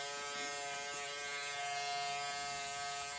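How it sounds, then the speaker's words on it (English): Electric hair clippers cutting a man's hair at home, a steady close, high-pitched buzzing hum running without a break. "That's essentially the clipper work"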